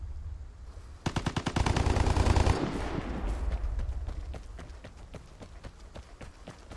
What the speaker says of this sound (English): That was just a ray of gunfire.